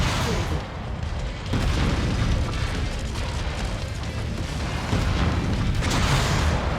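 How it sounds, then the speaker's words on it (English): A mech in MechWarrior 5: Mercenaries fires all its weapons at once, producing a continuous barrage of heavy booms, bursts and rumbling explosions, loud and dense throughout. "I'm just firing everything I've got at him."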